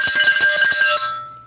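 Close, loud cowbell bought from a farm supply store, struck in a quick run of about eight ringing hits before the last tone rings out and fades.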